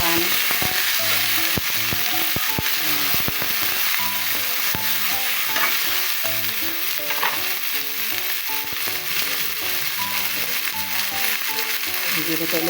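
Cooking oil sizzles and crackles steadily in a pan as food is stirred, a loud continuous frying hiss with scraping stirs throughout, while music plays faintly in the background.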